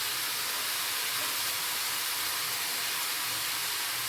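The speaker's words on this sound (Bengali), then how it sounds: "এই যে পোস্তটা দিয়ে দিচ্ছি।" Poppy seed paste hits hot oil in a pan of frying snake gourd, giving a steady, loud, broadband sizzle and hiss that continues without break, close to the pan, with no talking.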